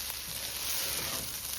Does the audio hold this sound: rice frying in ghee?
yes